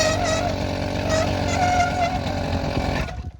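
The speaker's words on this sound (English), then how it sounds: "I accidentally dropped the clutch though, so it stalled immediately" A small two-stroke engine on a bicycle drones loudly and steadily, then cuts out abruptly as it stalls when the clutch is dropped, leaving near silence.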